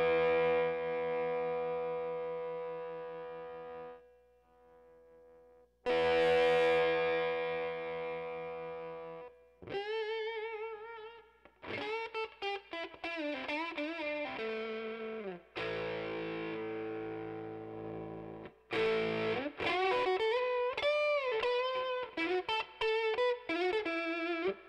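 Overdriven electric guitar through a screamer overdrive pedal playing sustained notes and melodic runs, gritty and fuzzy, moderately quiet, pausing briefly between phrases; no one speaks.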